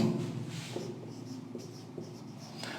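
Pen or marker writing by hand, working out determinant steps in a class 9 mathematics lesson, as a steady run of soft, close scratching strokes with brief pauses between them.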